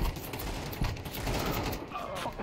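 Gunfire in Counter-Strike 2, a dense, steady burst of shots and mechanical clatter filling the whole moment at moderate level with no talk over it.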